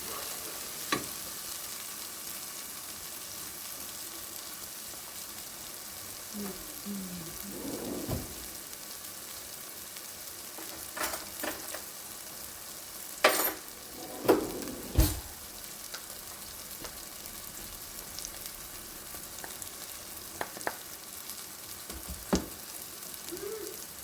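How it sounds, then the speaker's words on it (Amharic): Crushed tomatoes fry in a pan for a whole lentil stew, a continuous soft sizzle broken by intermittent spoon scrapes and stirring clanks, fairly quiet and close with no talking. "የቀጠቀጥኩትን ቲማቲም ጨምሬዋለሁ። አሁን ደግሞ በደንብ አድርጌ አዋህደዋለሁኝ።"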